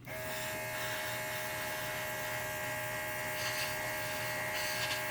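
Steady, continuous buzzing hiss of a paint marker spray gun spraying, with an electric motor whine running evenly throughout and no talking.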